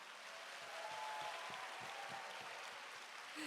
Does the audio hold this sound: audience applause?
yes